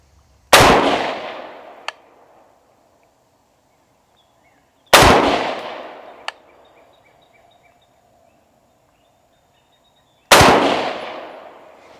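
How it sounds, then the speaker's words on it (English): Three sharp rifle shots ring out alone, roughly four to five seconds apart, each with a fast crack and a long echoing decay across an outdoor range toward a target at 50 yards. "the first thing I'm going to do is a 3-shot confirmation group of my zero on camera at 50 yards"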